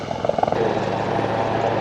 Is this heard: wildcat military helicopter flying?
yes